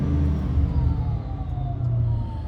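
A 2007 Ford Mustang Saleen S281 supercharged coupe idles with a steady low engine rumble, and a faint thin whine sits above it, holding a constant pitch throughout with a slight swell near the end.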